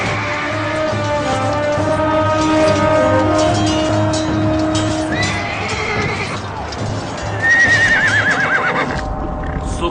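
A horse neighs loudly in a historical drama battle scene, with the whinnies over hoofbeats and a background crowd and music, the sharpest neigh near the end.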